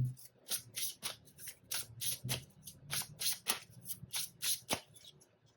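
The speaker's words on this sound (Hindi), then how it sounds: "एक और कार्ड निकालेंगे।" Tarot cards riffled and shuffled in quick rhythmic bursts, close and crisp, about a dozen brisk swishes with no voice over them.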